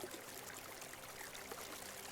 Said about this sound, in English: try to match with the water sound